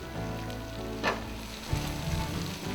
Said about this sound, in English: So I'm gonna press this down, get a nice good crisp on the flat top